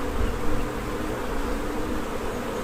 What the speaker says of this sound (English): Wow, they're just like overflowing with bees.